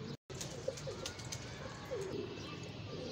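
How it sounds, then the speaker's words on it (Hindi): Soft, low coos from a King pigeon sound twice from close by over a quiet, hissy background. "तो ये देखें जी ये आ गया जी कबूतर"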